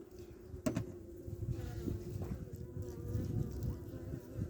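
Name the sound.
honeybees buzzing on a hive frame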